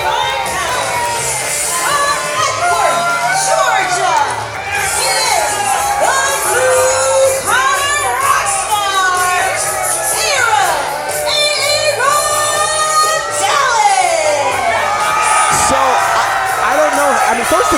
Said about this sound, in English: this crowd is going crazy